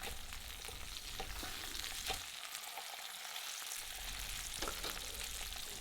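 A thick wagyu beef steak sears in a frying pan with a dense, continuous sizzle and crackle, steady and close throughout, with a few sharper pops and no talking.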